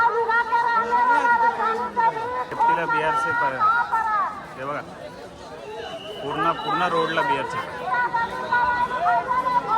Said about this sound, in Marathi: मंदिर दिसत नाही आहे तेव्हापासूनच गर्दी लागली